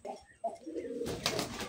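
Pigeons at a pigeon market give a few soft, low coos close by over a quiet background, ending in a brief burst of rustling.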